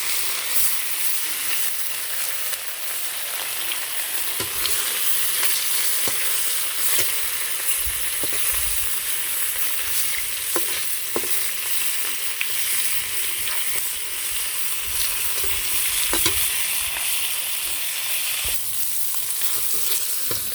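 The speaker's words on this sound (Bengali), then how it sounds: "মাছগুলো ভেজে নিই" Fish frying in hot oil seasoned with cumin and radhuni, cooked over a clay stove at night, a steady close sizzle and crackle with occasional sharper pops, no talking.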